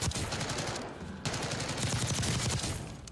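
Rapid automatic fire from the Jackal rifle in the shooter game Delta Force, a loud, dense stream of shots with a brief lull near the middle before the fire resumes.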